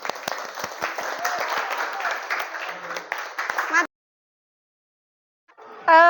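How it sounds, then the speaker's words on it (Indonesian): Classroom applause for group presentations in an Islamic religious education lesson, a few seconds of brisk clapping that breaks off into silence before a voice starts speaking. "Tepuk tangan untuk semuanya."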